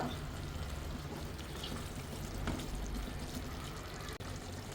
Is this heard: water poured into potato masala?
yes